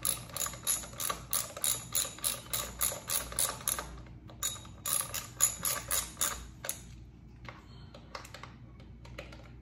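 A hand ratchet tightens bolts on the derby cover of a 2012 Harley Ultra Limited motorcycle, giving rapid, close, rhythmic clicking strokes in several bursts, then lighter scattered clicks and taps near the end.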